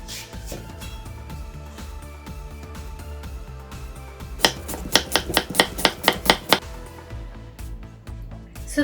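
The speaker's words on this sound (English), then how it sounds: "let me start chopping the fruits for the Falooda" A knife chops apples on a cutting board for falooda, a quick run of about eight sharp, evenly spaced knocks in the middle, close and distinct over a low background hum.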